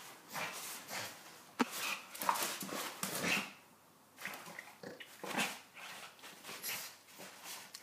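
A pug whimpers in a string of short, thin whines and soft yips. The bursts come close together with brief pauses between them and sound near and fairly quiet.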